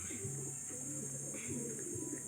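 Pigeons cooing close by outdoors, soft repeated throaty coos in a low rolling rhythm over a steady hiss, with a voice faintly present underneath.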